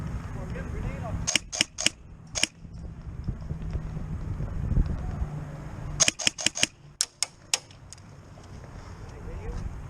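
Airsoft guns shooting in a close-quarters game: two tight bursts of sharp, snappy shots, a few in quick succession early on and a longer cluster later, over background noise and talk.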